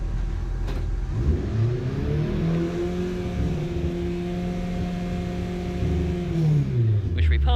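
A hot hatch race car held at steady high revs for a trackside noise test at Silverstone, a loud sustained engine drone that climbs, holds a firm pitch, then drops away near the end.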